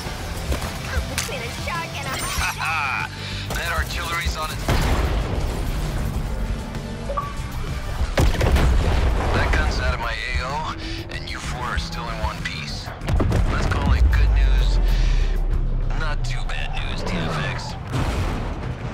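Artillery fire and explosions in the video game Suicide Squad: Kill the Justice League, sharp cracks, thumps and deep booms scattered through a busy battle mix with voices talking over them.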